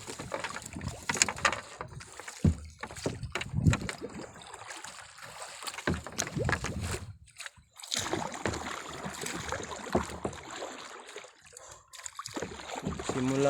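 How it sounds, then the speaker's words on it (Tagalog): A paddled rowboat with no engine out on the sea, with water sloshing and splashing against the hull and wind buffeting the microphone, interrupted by occasional knocks, while a voice speaks intermittently. "Minsan po ang ginagamit ko ay yung disagwan na bangka, yung walang makina."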